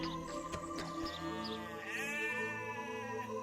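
Sheep bleat at close range while grazing, several overlapping, wavering calls stacking up over a soft pastoral background.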